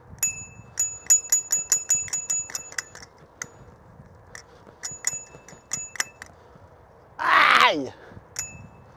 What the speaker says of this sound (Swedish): Every follow gets a ring bell.